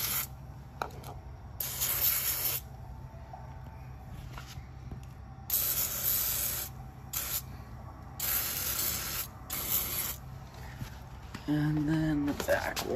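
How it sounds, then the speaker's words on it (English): A sprayer hisses in repeated bursts over a golf cart being cleaned during a restoration, loud and close, with a steady background noise between bursts and a voice speaking briefly. "go ahead and spray the other side."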